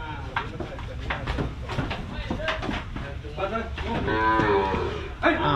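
Cattle at a Thai livestock market mooing, long loud lowing calls repeating close by, overlapping with people talking and market bustle.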